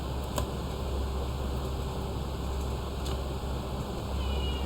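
A house cat meows faintly once or twice in a home office, nearly buried under a steady fan-like hiss and hum, with no speech.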